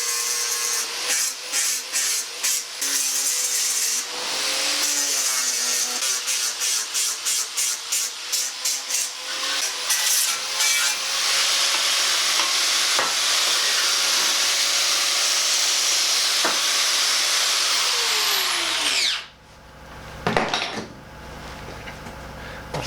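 Welded ends on a Land Rover Series 3 are dressed with a power tool, heard first as a quick run of close, rhythmic bursts and then as a long, steady, loud grinding whine that cuts off abruptly, leaving a few clatters.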